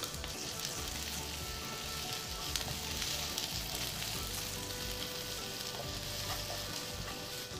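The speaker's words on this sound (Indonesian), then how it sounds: "Setelah minyak panas, tumis bawang putih, bawang merah," Garlic, shallots and ginger sauté in hot oil, a dense, steady crackling sizzle that runs throughout, close and even, with faint stirring scrapes underneath.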